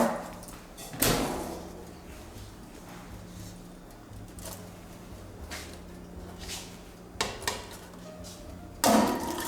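A kitchen oven door opens and clunks as an Italian casserole goes in, with a few sharp knocks and metallic bangs at irregular intervals, close by, amid quiet room noise.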